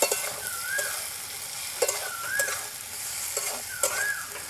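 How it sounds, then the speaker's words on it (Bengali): Potatoes with ground cumin paste frying in a pan for a village-style papad curry, a steady close sizzle broken by three evenly spaced scrapes of a spoon stirring through the pan. "ভালো করে এবার মশলাগুলো দিয়ে আলুটাকে কষিয়ে নেব।"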